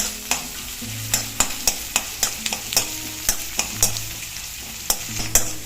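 Green chillies sizzle in hot oil in a pan while a spoon stirs them, sharp regular scraping taps over a steady frying hiss, cooking for a Kerala-style pineapple pickle, with no voices.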